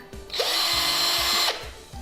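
A power drill whirs up to a high steady whine for about a second, then spins down, close and loud, with no talking, as it drills into a wall.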